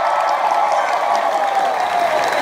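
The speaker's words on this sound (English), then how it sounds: "Give them a round of applause." Steady applause from a convention panel audience at Anime Expo 2017, a dense wash of clapping filling the room throughout without a break.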